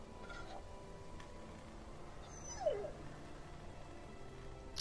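A dog in The Walking Dead video game gives a single faint, high whimpering yip over quiet background ambience, brief and soft.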